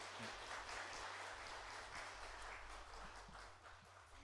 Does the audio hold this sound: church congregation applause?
yes